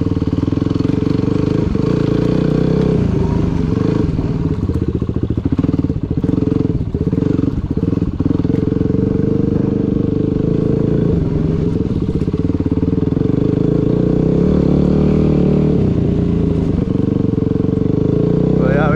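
A Yamaha WR250R dirt bike rides along wooded property trails, its engine droning loudly and continuously with shifting revs and occasional thumps and rattles from rough ground.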